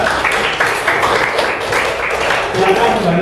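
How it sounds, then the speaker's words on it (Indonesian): Junior high school classroom applause for a student group after their presentation, a dense, fairly close burst of clapping from many hands lasting a few seconds, with voices mixed in. "tepuk tangan untuk kelompok 2"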